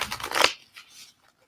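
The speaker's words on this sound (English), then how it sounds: "Last shuffle." Tarot cards are shuffled in a quick, close riffle of papery flutters that ends abruptly, followed by a couple of softer card taps and handling sounds before near silence.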